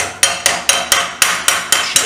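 Steady hammer blows on a metal strip being shaped around a one-inch tube, eight sharp ringing strikes in an even rhythm, loud and close with no voices.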